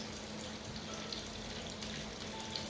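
Lamb lollipops searing in a hot pan, a steady dense sizzle and crackle running the whole time at moderate loudness with no voices.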